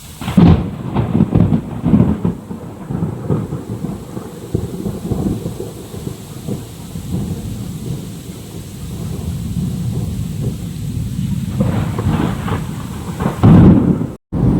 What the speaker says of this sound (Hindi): क्या मस्त बारिश हुआ थे।